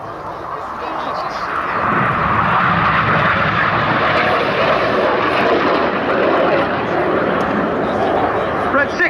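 Red Arrows display jets manoeuvre at the Cosford airshow, their engine roar swelling after a couple of seconds into a loud sustained rush, with a commentator talking over it throughout.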